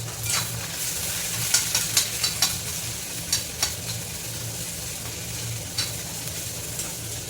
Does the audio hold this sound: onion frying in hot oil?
yes